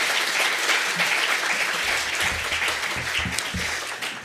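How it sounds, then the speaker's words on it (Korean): A church audience breaks into sustained, vigorous clapping to welcome a missionary speaker, a dense roomful of applause with low murmuring voices creeping in near the end. "우리 나오실 때 힘찬 격려의 박수로 환영하겠습니다."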